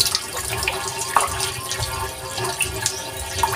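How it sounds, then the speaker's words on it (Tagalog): Water runs steadily from a tap into a container beside a well pump setup, a continuous close splashing rush with small trickles and drips throughout. "Maglagay tayo ng tubig."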